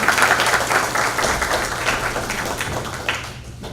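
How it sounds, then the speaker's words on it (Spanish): An audience at a workshop claps loudly to welcome the executive president of the IGP, a dense burst of applause that gradually thins and fades toward the end. "Lo recibimos con fuertes palmas."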